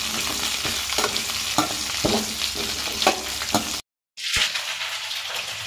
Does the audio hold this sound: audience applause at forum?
no